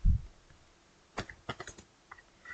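Keyboard keys clicked in quick short bursts while a command is typed into a Linux terminal, with a low thump at the start and scattered sharp taps afterward, close and fairly quiet with no talking.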